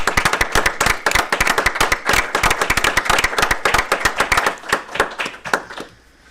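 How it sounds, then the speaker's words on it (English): Audience at a village board meeting applauding a staff member, a dense run of sharp, loud hand claps that holds steady for several seconds, then thins out and stops, with no talk over it. "I think we should all applaud Brenda"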